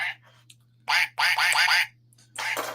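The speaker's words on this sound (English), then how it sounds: "get some quacks for that" A duck quacking close by, several loud raspy quacks in short bursts with brief gaps, alone without talk.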